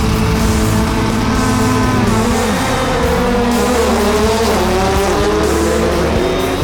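Subaru rallycross cars race in a qualifying session, engines roaring loud and close with shifting revs, tire noise and a continuous racing din throughout.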